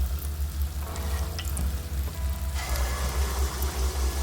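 Wheat flour appam batter frying in hot oil, a steady loud sizzle with a crackling burst partway through as more batter goes in, plus a constant low hum behind it.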